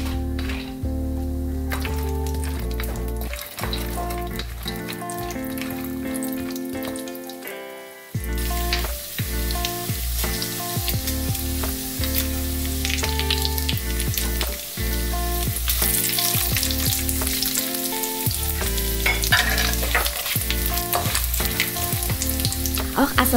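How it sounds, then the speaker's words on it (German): Cashews and then spices frying in mustard oil for a chickpea chana madras curry, a steady loud sizzle with occasional stirring clatter, a brief quieter dip early on, no voices. "Als erstes brate ich die Cashews in Senföl an, bis sie leicht Farbe annehmen und dann kommen die Gewürze dazu"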